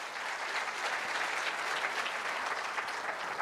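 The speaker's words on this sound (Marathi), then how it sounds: "एकदा जोरदार टाळ्या नक्कीच व्हायला पाहिजेत." A hall audience claps steadily for a few seconds, a dense, even wash of many hands at moderate distance with no voices over it.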